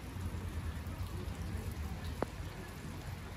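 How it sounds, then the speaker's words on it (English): Steady rain falling outdoors, a dense even hiss of drops with one brief sharp tap near the end, continuous and fairly close. "It's been raining here for about 3 hours."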